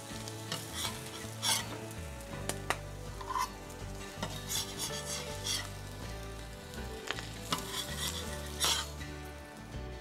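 Smash burger patties sizzle loudly on a hot flat griddle, with steady frying crackle and occasional sharp scraping and metal clinks from a spatula throughout.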